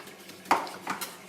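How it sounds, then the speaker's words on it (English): Oil and eggs being mixed in a bowl for a carrot cake batter, giving a few close clinks and scraping knocks of utensil against the bowl, with no talking. "So just mix the oil and the eggs together."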